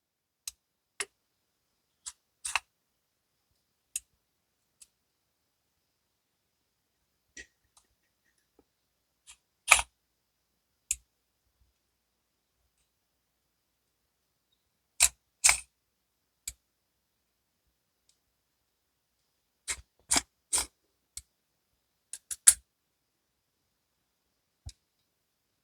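T6 screws come out of a Benchmade Infidel OTF knife, heard as small, sharp metallic ticks and clicks, isolated and close, scattered irregularly across a quiet background with occasional tight clusters.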